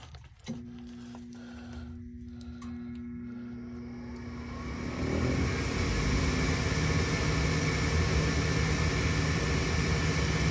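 A replacement furnace induced draft motor in a crawlspace starts up after a faint hum and a click, then spins up into a steady whooshing whir that grows louder around midway and holds, close and even.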